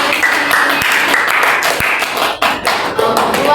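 A school class applauds during a micro-teaching lesson, a short burst of brisk clapping from many hands in a room, with a faint voice underneath.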